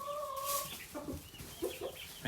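Several short, soft clucks from meat chickens nearby, with a few higher squawky notes at the start, heard without talking.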